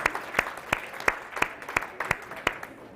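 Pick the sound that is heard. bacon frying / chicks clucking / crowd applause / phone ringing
crowd applause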